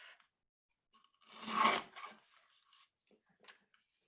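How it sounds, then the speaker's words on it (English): A small paper trimmer slices through cardstock in a single short rasping pass around the middle, with a few faint taps and rustles of crafting before and after it. "so I might use a little baby trimmer for this one. And trim that off."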